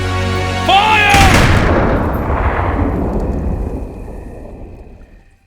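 A volley of gunfire bursts out at once as soldiers fire together, one loud booming crack that rolls away into a long, fading echo with a bit of noise before it.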